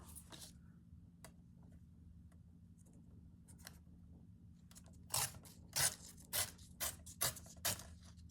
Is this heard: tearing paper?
yes